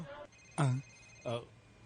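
An incoming call rings on a phone, with two short tonal ring bursts close by against a quiet background.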